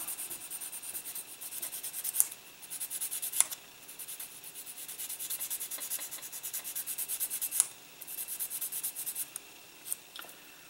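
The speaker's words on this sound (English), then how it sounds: "take my sanding sponge to it now" A sanding sponge rubs over Bondo filler on a King Ghidorah model kit in repeated close, scratchy back-and-forth strokes, with brief pauses and small knocks between passes.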